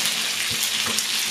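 Onion frying in a pan over low heat, a loud, close, continuous sizzle and crackle.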